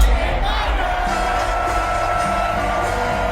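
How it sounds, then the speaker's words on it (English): Concert crowd roaring and chanting as Kendrick Lamar performs "Not Like Us" in Toronto, a loud dense mass of voices with a sung line carrying through. "this is how the crowd responded"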